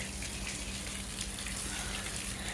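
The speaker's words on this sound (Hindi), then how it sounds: "इधर जो है ना सवेरा जो है ना फर्श को धो रही है" Water splashes and rushes steadily across a floor being washed at home, a continuous close wash of sound with no break.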